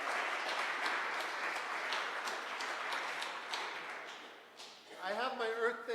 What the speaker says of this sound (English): Keep that applause going, but for yourselves for being here tonight.